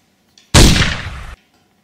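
A toy Transformers Dinobots blaster fires one loud, close burst that lasts under a second and cuts off sharply, with no talk during the shot.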